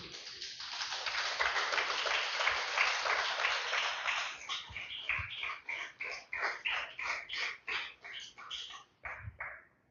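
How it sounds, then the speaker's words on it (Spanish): Loud applause from a church congregation, sustained at first and then breaking into scattered rhythmic clapping bursts that fade out. "Den un fuerte aplauso al Señor, aleluya."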